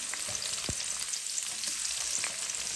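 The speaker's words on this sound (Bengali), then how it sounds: "হালকা ভেজে নেব। মাছগুলোর তেলটা ছিল, দিয়ে দিছি এই যে পেঁয়াজ, কাঁচামরিচ" Onions and green chilies fry in leftover hilsa fish oil for a curry, giving a steady, close sizzling hiss with a few soft stirring clicks and no voices.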